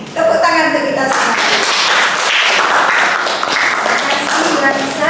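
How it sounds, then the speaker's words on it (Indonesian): A classroom group clapping together during a micro-teaching lesson, a loud dense burst of applause after a brief spoken line, holding steady for several seconds. "Tepuk tangan untuk kita semua"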